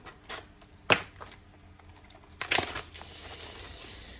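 Packaging of Faber-Castell Pitt Graphite Matt pencils being opened, with sharp clicks, crinkles and scraping pulls, followed by a steady rustle, close by.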